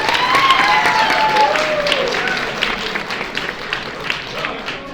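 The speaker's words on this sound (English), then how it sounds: "Can you all give them a round of applause on the great news?" Audience applause at a small fundraising gathering: dense, steady clapping that fades gradually, with a few voices calling out over it.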